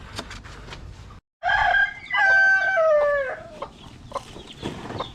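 Texas gamefowl chickens vocalizing at close range, a rooster-like drawn-out call with stepped pitch dominating the middle, surrounded by short clucks and barnyard noise.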